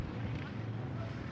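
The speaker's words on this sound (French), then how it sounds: "Le vent est énorme à Amelia aujourd'hui." Strong wind buffets the microphone at an outdoor boys' under-15 football match in Amelia, a loud continuous low roar with a commentator talking over it.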